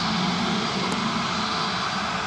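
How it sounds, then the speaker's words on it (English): Airliner jet engines at Manchester Airport run up with a steady, loud, broadband roar that holds level throughout, heard close by without any talking. "I can hear the sound of the engine starting"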